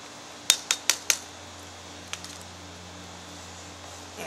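A spoon stirs food in a metal canteen cup at a campsite, giving four quick, bright metallic clinks in a row, then a few fainter taps over a low background hum.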